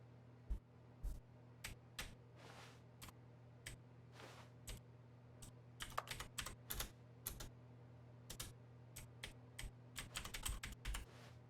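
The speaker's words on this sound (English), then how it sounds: "So I hit X and it sounds like typing at a keyboard." Keyboard typing in The Stanley Parable: Ultra Deluxe, irregular bursts of sharp key clicks, sparse early then denser toward the end, over a steady low hum, with no talking.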